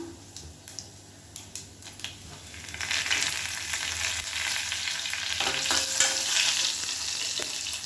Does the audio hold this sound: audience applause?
no